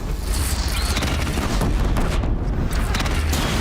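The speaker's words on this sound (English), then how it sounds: "Get the Ostrom cannon, full load, let him have it." Ostrom cannon unloading a full load in Horizon Zero Dawn, a dense, continuous barrage of booming shots and blasts that pounds steadily at close range.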